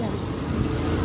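Car engines and road noise from learner drivers practising in a park form a steady, loud rumble that fills the short moment without distinct breaks.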